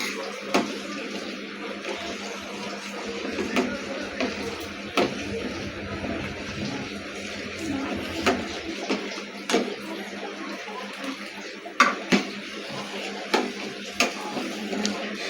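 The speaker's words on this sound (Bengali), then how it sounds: "এবার আমি ভালো করে দুধটাকে এই চালটা ভালো করে নাড়বো" Rice simmering in milk in a pot is stirred with a spoon, giving repeated scraping knocks against the pot at an uneven pace over a low, steady background hiss.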